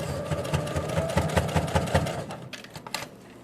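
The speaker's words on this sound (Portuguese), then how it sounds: "A máquina vai fazer barulho, porque são muitas camadas" Sewing machine stitching through many layers of fabric, a close, steady rapid chatter of needle strokes with slight pulsing, then slowing and stopping toward the end, no talking.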